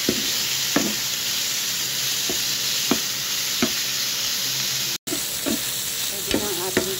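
A loud, constant sizzle of pork, tofu, anchovies and chili being stir-fried Chinese style in hot oil, punctuated by occasional knocks and clinks of a spatula against the pan. No one speaks.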